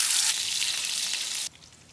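Eggs fry in the oil left over from making fried onions, a bright hissing sizzle that holds steady and then drops off sharply to a faint crackle near the end.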